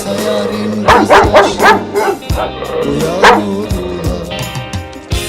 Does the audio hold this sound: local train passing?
no